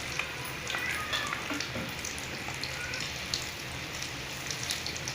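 Quail pieces fry in hot oil with a steady, close sizzle and crackle, dotted with small pops throughout.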